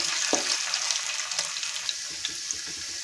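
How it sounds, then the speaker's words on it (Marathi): Potato and onion fry in oil for poha, making a steady, moderately loud hiss with a few light clicks and taps scattered through it. "बटाटा छान तेलामध्ये झाला पाहिजे म्हणून एक मिनिट आपण याला तेलामध्ये होऊ देणार आहोत"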